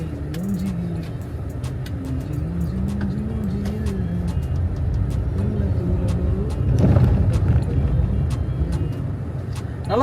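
A car being driven, with a steady engine and road rumble from inside the cabin, a brief swell in the middle, and a voice speaking over it.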